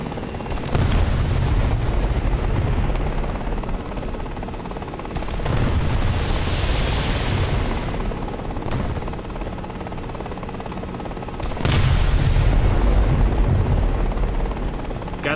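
A helicopter in a video game fires 57mm rockets over its steady rotor drone, with three heavy booming launches spread several seconds apart.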